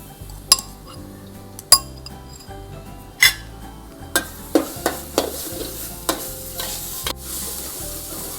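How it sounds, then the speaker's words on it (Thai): Blended garlic frying in a wok for shrimp with chili and salt, a close, steady sizzle broken by several sharp clanks of a spatula against the metal and a low hum underneath. "กระเทียมนะคะที่เรา ปั่นไว้เมื่อกี้เนาะใส่ลงไปเลยเจียวให้หอมเลยนะคะ"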